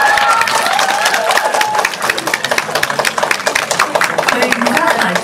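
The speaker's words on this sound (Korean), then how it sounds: "큰 박수 부탁드립니다." An audience at a film screening's guest talk claps in dense, continuous applause that holds steady throughout, loud and close, with voices mixed in.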